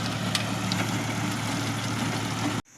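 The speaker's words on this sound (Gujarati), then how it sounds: "એક સાઈડ ટ્રેક્ટર ચાલુ થઈ ગયું છે" A tractor engine runs on a farm, with a steady low idling rumble and a few faint clicks, continuous and fairly close, until it cuts off abruptly near the end.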